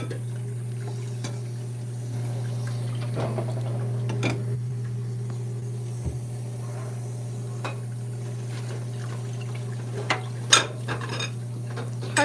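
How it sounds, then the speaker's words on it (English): Occasional clinks and clatters of dishes and cutlery being washed, sparse and close, over a steady low hum. "Hard to do dishes with one hand"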